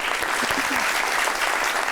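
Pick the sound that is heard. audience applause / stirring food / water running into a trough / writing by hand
audience applause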